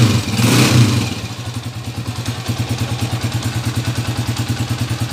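A motorcycle engine idles steadily nearby after repair in a mechanic's shop, a rapid even putter with a louder rev at the start that settles into a regular chugging rhythm.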